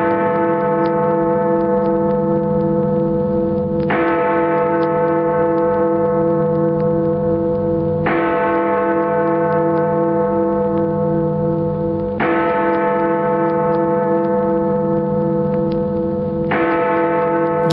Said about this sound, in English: Get the Big Ben bongs.